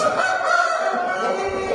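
A rooster weighing over five kilos crows once, a strained sustained call that fills the whole short moment at close range.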